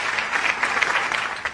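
An audience at a speech claps steadily, a dense wash of many hands sustained throughout without a break, fairly close and full.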